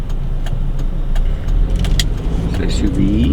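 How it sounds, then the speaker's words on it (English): A car passes on a road, its engine and tyre noise a steady, fairly loud wash throughout, heard from inside a vehicle with the windshield wiper. "Wait for this car to go."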